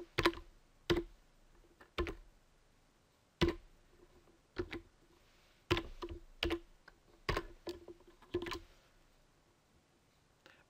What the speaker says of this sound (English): so I have to type it here